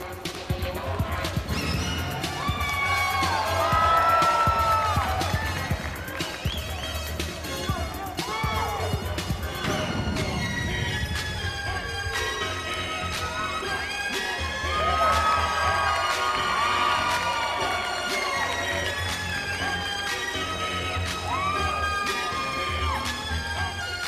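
An audience at a bodybuilding show cheers and roars for a posing routine, loud and sustained for the whole stretch, swelling in waves with whoops and shouts over music, and a voice speaking over it.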